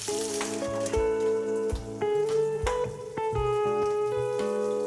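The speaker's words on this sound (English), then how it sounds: "While your pork is cooking" Pieces of pork sizzle and spit in hot oil for a sticky stir fry, a loud, steady frying hiss broken by short clanks of cookware, with no voices.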